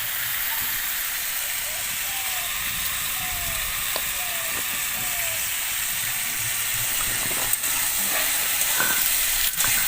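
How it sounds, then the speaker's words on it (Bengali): Mixed vegetables, including carrot and papaya, fry in ghee in a pan with a steady bright sizzle and hiss, broken by occasional light knocks of stirring. "তো এই সব কিছু আমি ঘিয়ের সাথে ভালোভাবে ভেজে নেব।"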